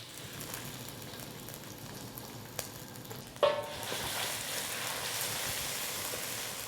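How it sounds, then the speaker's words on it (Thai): Thai panang curry paste hits hot oil partway through, setting off a steady bright sizzle that continues to the end after a quieter stretch of low frying hiss. "อุ่นน้ำมันให้ร้อนดีนะครับ ใส่พริกแกงผนงลงไปครับ"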